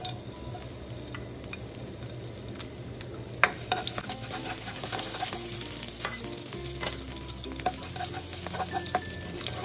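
Garlic sautéing in hot cooking oil in a pan, with onion and chicken close by, for a Kapampangan chicken asado: a steady close sizzle with scattered stirring clicks and scrapes, no voices.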